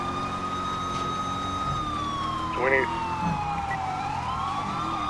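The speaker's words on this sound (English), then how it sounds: "So many sirens." Police and other emergency vehicle sirens wail and sweep in pitch at moderate distance, overlapping one another, while radio chatter and voices talk over them.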